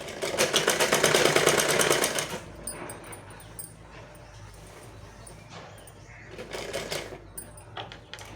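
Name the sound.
sewing machine stitching leftover cloth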